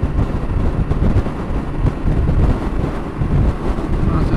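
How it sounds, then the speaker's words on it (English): Strong wind roars across an exposed Welsh mountain top, a loud, continuous buffeting rush that swells and eases without a break and fills the whole stretch. "That's a strong wind blowing."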